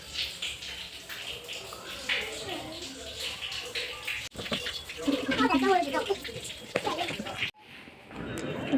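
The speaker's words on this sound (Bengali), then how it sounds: "জলগুলো ভরে নেবো, জলটা শেষ হয়ে গেছে। এখানে বাইরে জল ভরতে হয়।" Water runs from an outdoor tap into containers at a home. The steady rushing lasts most of the clip and shifts in tone as the containers fill, then it cuts off near the end. Voices and children can be heard in the background.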